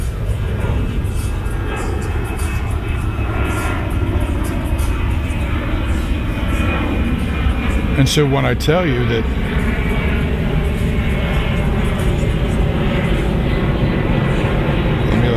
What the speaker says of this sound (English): let me let this plane go by.